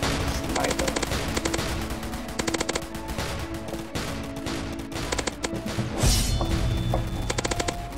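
A Rainbow Blaster fires in the Roblox game Zombie Attack, with rapid bursts of loud, clipped electronic shots in quick repeating volleys, close and dominant, with a brief crash-like burst near the middle.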